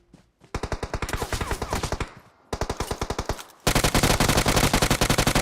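Rapid automatic gunfire in the mobile battle royale game PUBG Mobile, loud sustained bursts of evenly spaced shots, a short gap, then denser continuous firing.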